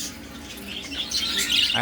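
Several small birds chirp and tweet close by, the high calls growing busier and louder toward the end.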